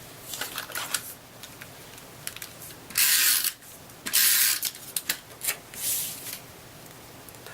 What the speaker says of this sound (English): I just want to take my card base, fold that in half